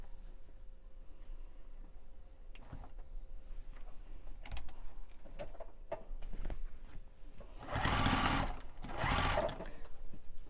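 A home sewing machine stitches a Santa hat pillow in two short bursts of whirring, separated by a pause, amid quieter handling clicks and taps nearby.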